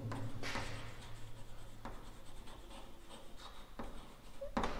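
A pen scratches across paper in short strokes and pauses, close and fairly quiet, with faint background murmur.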